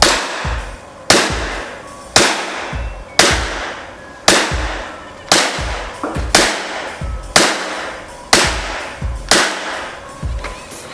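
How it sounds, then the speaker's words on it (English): An ICS BLE-XMK airsoft gun fires ten sharp, evenly spaced shots about a second apart. Each crack is loud and close, and a short ringing tail follows it. "I will fire 10 rounds and compare the difference"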